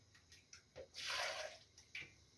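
Water poured from a container into a pot of pork belly, a short splashing pour near the middle, surrounded by a few quiet drips and clinks, close and fairly soft.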